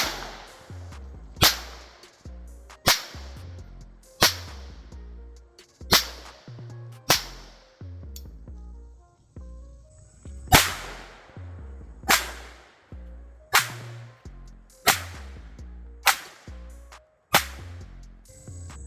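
A Jennings J22 pistol firing Remington Thunderbolt .22 rounds, about a dozen sharp cracks spaced a second or so apart, each with a short ringing tail, loud and close with no voices.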